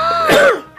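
A single short throaty cough, close and loud, with a rough, voiced, throat-clearing quality, lasting under a second.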